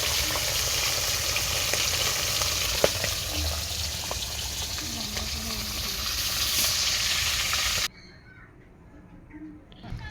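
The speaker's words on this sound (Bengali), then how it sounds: "এগুলোও লাল লাল করে ভেজে নেব।" Large fish frying in hot oil in a kadai crackle and sizzle loudly and continuously for several seconds, then the sizzle cuts off abruptly near the end, leaving a quiet room with faint faraway sounds.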